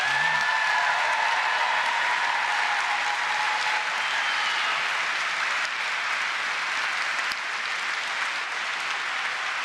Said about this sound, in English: give a really noisy round of applause for the staff and the organizers